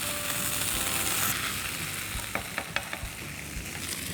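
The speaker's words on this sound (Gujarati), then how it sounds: "હવે આ પ્રોપર આપણે એને બરાબર એકવાર હલાવી દઈશું." Schezwan sauce stirred into doodhi muthia in a hot pan, a steady sizzle with a few sharp scrapes and clicks from the spoon toward the end, close and alone.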